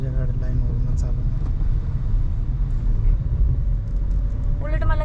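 A car on the road from Manali toward Khoksar, its engine and tyres giving a steady low rumble from inside the cabin, with people talking over it.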